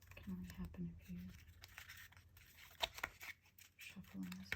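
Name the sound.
shuffling oracle cards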